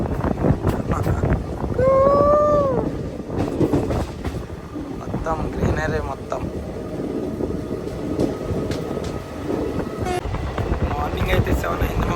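Continuous rumbling rail noise of a passing train heard from on board, with a brief horn-like tone early on, steady and close, with people talking faintly over it.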